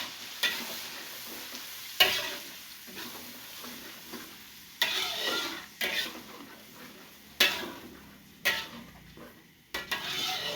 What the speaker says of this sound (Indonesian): ini udah sampai di penggorengan cabenya, dan juga cabenya udah hampir mateng